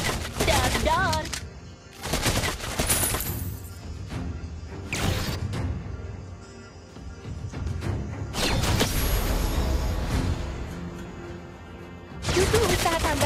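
Beatrix's guns fire in the mobile game Mobile Legends as loud bursts of rapid gunfire, several volleys separated by short pauses, close and punchy.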